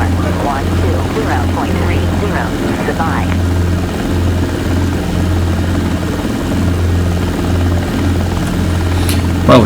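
Robinson R22 helicopter in the X-Plane 12 flight simulator, its rotor and engine drone steady and loud throughout as it lifts off, with a low thrumming beat and faint cockpit sounds over it.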